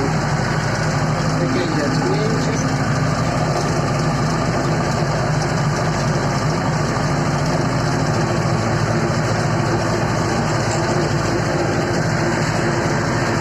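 A DTZ 5404K tractor set up for spraying small plots, its engine running steadily and loudly at close range, a constant unbroken rumble and clatter throughout.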